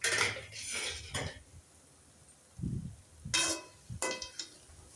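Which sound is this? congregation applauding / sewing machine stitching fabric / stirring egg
stirring egg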